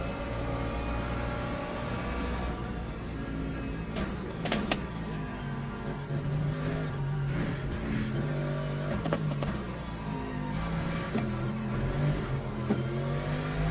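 An LMP2 prototype race car passes in the sim racing game Le Mans Ultimate, its engine a continuous droning whine over the steady hum of the player's own car, with a few brief sharp clicks.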